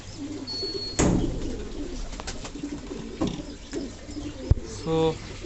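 Fantail pigeons coo softly in a loft, a low throaty murmur with a few sharp knocks and a clearer rolling coo near the end, as a person talks nearby.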